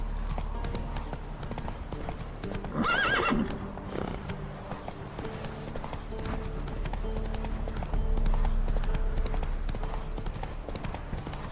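Horse hooves from The Witcher 3 clip-clop in a steady rhythmic trot, moderately close, with a short neigh or whinny breaking in near the start and faint game ambience underneath.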